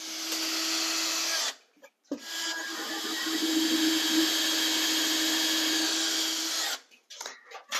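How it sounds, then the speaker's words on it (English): A power drill whirs steadily for several seconds, boring into wood, with a short pause before and a brief stop near the end. "So I am pre-drilling my first set of holes"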